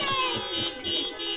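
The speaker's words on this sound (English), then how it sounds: "I need to hear an amen or a honking of a horn." Car horns honking in a church parking lot during an outdoor drive-in worship service, several short overlapping toots and tonal blasts repeating in a loose rhythm, moderately loud with faint voices in the background.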